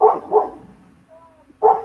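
Dogs barking in a suburban neighborhood: three loud, close woofs, two quick ones in a row, then a pause with a faint whine before a final bark.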